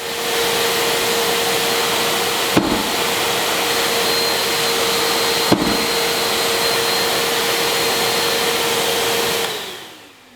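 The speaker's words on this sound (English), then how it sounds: "Something to pay attention to here though is that pulsing to auto clean the filter, which is pretty cool." A Makita 12 gallon Xtract dust extractor vacuum runs with a loud, steady whooshing roar, cut by two brief sharp pulses from the automatic filter cleaning before the motor winds down at the end.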